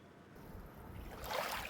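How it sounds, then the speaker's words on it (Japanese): Gentle sea waves lap softly at a quiet roadside beach in Ehime, a faint low wash that swells slightly toward the end of the short clip. "優しい波音。"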